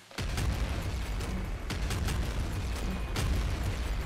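Repeated booming explosions from a weapon in the roguelike video game Nuclear Throne, several bursts spaced about a second apart over a steady rumbling game soundscape, no talk.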